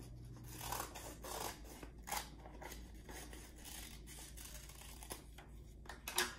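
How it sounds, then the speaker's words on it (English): Scissors cut through a small sheet of paper folded twice, making repeated crisp snips and scraping rasps at close range over several seconds with no talk. "And we're going to cut it in half."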